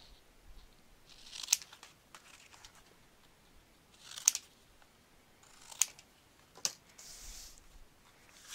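Scissors snip mitered corners into scrapbook paper for an 8x8 baby album page, a handful of quiet, sharp cuts spaced a second or two apart in a hushed room.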